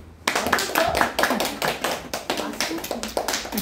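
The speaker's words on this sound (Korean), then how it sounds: "예, 박수" A group claps in praise of a student's correct answer during a Bible lesson, with a burst of close, crisp handclaps starting abruptly and continuing for about three seconds.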